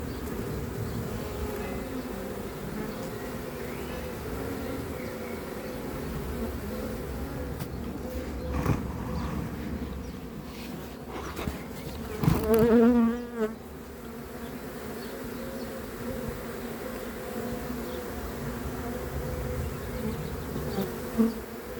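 A dense, steady drone of a swarm of many honeybees buzzing close by, continuous throughout with a few brief knocks and louder swells midway.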